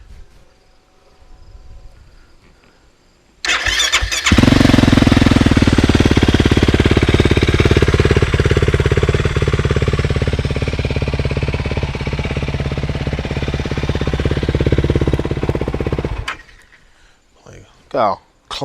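Fuel-injected Yamaha YFZ450R ATV engine starting up and running: a loud, steady rough idle that begins abruptly after a quiet start, holds for about twelve seconds, then cuts off.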